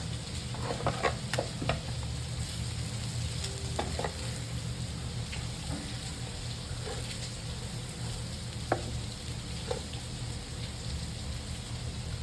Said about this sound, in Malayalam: ഇതെല്ലാം കൂടി അതിലോട്ട് ഇട്ടിട്ട് ഒന്ന് ഇളക്കാം